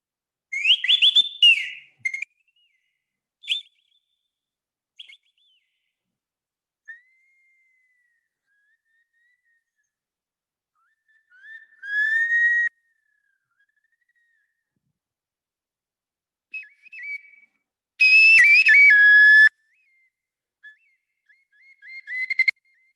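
Bamboo flute imitating birdsong, with short whistled chirps and trills in scattered bursts separated by silence, a longer warbling phrase near the end.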